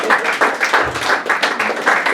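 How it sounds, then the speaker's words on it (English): Audience applause at a poetry open mic, a steady patter of clapping hands filling the room for about two seconds with no voices. "Keep it coming, keep the applause"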